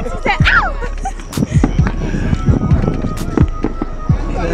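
Fireworks are shot outdoors at a gender reveal party, loud cracking pops and bangs mixed with crowd noise as people talk and shout close by.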